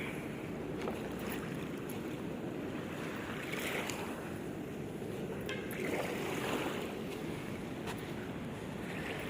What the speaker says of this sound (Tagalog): Ang tanging maririnig mo lang po yung hampas ng alon.